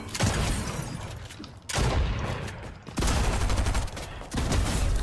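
A shotgun firing in a video game: loud, booming blasts, four of them spaced about a second or more apart, each followed by a sustained roaring tail, with no voice heard.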